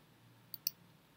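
A computer mouse click while editing in iMovie: two quick, faint, crisp clicks in close succession over a low background hiss.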